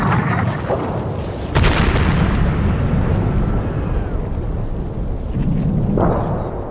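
Battlefield fire on First World War open ground makes a continuous loud, dense roar of explosions and shellfire, with sharper bursts standing out from the rumbling background.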